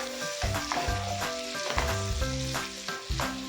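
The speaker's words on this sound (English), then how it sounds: "So I'm going to fry this for, let's just give it 2 seconds" Rice for Nigerian fried rice sizzles steadily in a hot pan, a dense continuous frying hiss with occasional stirring scrapes, close and fairly loud, with no one speaking.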